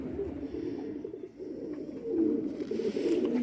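Pigeons kept for sale cooing close by, soft repeated low throaty coos that overlap and swell louder toward the end.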